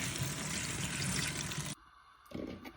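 Steaming hot water gushes loudly from a kitchen tap in a steady close stream, then cuts off abruptly, followed by a quieter trickle near the end.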